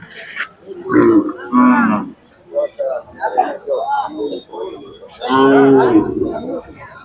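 Khillar cows at a rural cattle market in Sangola, Solapur, Maharashtra, low and moo repeatedly, close and loud, with a couple of long calls, restless amid nearby talk.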